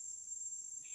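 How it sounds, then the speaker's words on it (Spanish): A cicada buzzes with a thin, steady high-pitched drone, faint and continuous, with a second buzzing tone joining in at the very end. "Hace tanto que no escucho una chicharra."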